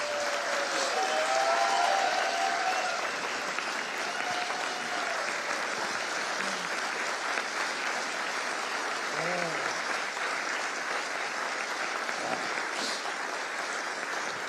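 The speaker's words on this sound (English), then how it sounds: "would you all give her a big-time round of applause?" A large audience claps in a long, steady round of applause at the Anoka Area Chamber of Commerce annual meeting breakfast, a dense, even roar of hands that holds without a break for about fifteen seconds.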